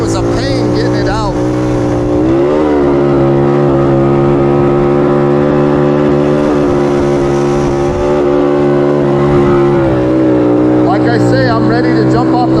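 A 1969 Honda Trail CT90 motorbike revs hard in quicksand, its small engine holding a loud, buzzing high-RPM drone with brief dips and surges in pitch, recorded up close while riding.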